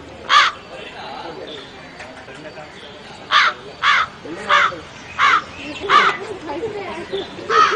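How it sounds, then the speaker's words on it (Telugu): A crow caws loudly and close by, one call near the start, then a rapid run of about seven harsh caws in the second half over faint background chatter. "అదే ఓ కాకి"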